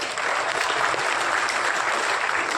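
An audience claps at a Hindi poetry gathering, dense continuous applause from a crowd that fills the hall, loud and steady throughout.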